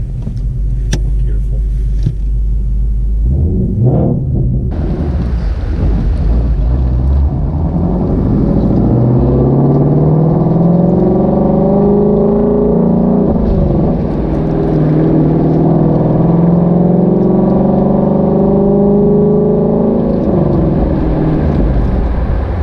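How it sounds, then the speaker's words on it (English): A Ford Shelby GT350 Mustang pulls away onto the road, its engine rumbling loud and steady from inside the cabin after a brief start-up surge. "let's get it out on the road and see just how it drives. Alright, and we are off."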